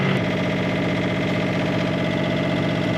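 A sailboat's inboard engine revved to about 2,000 RPM, recorded close by: a loud, steady mechanical drone with a rhythmic low throb that holds constant throughout, no voices over it.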